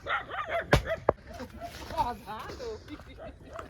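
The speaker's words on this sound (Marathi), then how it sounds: "ह्या कुत्र्यांची गँग सुरू आहे बघा" A group of dogs barks in a rural Malvani family setting: a few close yips and barks, two sharp ones early on, while people talk over and around them.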